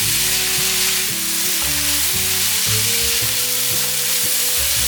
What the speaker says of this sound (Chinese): 放入半茶匙的盐，还有半茶匙的黑胡椒。 把调味料炒匀